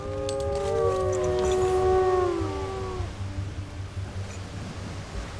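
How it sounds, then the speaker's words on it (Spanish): A wolf howls at a distance in a hunting reserve, one long wavering call with layered tones that swells and then fades out after about three seconds, leaving faint background hiss. "¿Oyes cómo aúlla ese lobo?"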